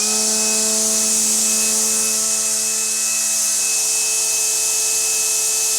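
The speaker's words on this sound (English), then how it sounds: "now let's test the DeWalt. This is the DeWalt setup, clamped in the same vise" A DeWalt string trimmer running while clamped in a vise, a loud, steady, even whine with a constant motor tone throughout and no talk.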